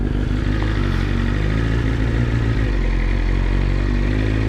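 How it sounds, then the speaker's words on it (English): A BMW S1000RR motorcycle engine runs steadily nearby, a loud, dense, continuous idle with mechanical clatter and no pauses. "Oh, the bike sounds so good."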